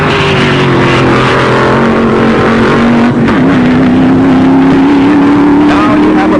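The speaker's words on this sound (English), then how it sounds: "Del Fisher bulls his Dragster for a very good run" A 1950s dragster makes a hard run at a 1956 drag race, its engine roaring loud and continuous with a slowly rising pitch, under a commentator's narration.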